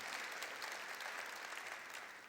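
A church congregation bursts into clapping, a dense, even wash of many hands that fills the short moment without any talk over it, heard from a little distance.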